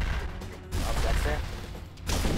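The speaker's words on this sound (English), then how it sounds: "This thing's dropping bombs." Bombs dropping in the video game Castle Crashers make a dense run of booms and bursts, loud and continuous with a brief lull before a final heavy hit.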